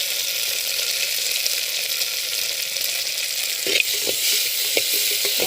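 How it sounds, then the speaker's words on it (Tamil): Small onions sauté in hot oil in a pan for balloon vine herbal rasam. A steady, close sizzle runs throughout with no talking, and a few soft stirring knocks come near the end. "பாருங்கள், சின்ன வெங்காயம் இதுவும் நல்லா வதங்கட்டும்."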